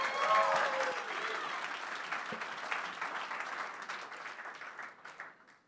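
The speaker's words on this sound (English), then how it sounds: "round of applause for Makeswift" Audience applause at a startup pitch event in a tech village, a dense wash of many hands clapping that starts strong and gradually thins and fades over several seconds, with no talk on top.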